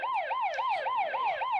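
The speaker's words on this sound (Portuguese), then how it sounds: "Essa é a sirene que eu quero que você ouça quando chega um paciente grave." An ambulance siren wails in a continuous rapid up-and-down sweep, loud and steady, repeating about every quarter second with no talk.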